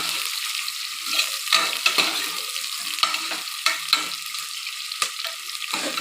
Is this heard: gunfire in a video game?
no